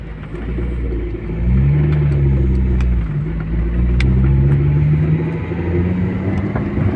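A Toyota EE-80 Corolla car engine runs steadily nearby, its idle rising into a couple of revs and falling back, with no talking.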